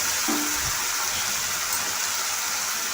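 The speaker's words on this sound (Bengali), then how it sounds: "মশলাটাকে ভালো করে কষিয়ে নেব যাতে আদা, রসুন, জিরে কাঁচা গন্ধটা না থাকে" A ginger, garlic and cumin masala fries in a pan with a dense, even sizzle that stays close and constant, alone without talk.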